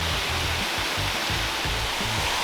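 A waterfall pours with a loud, constant broadband rush of falling water in a mangrove creek setting, heard up close. A faint low rhythmic thumping runs underneath, and there is no talking.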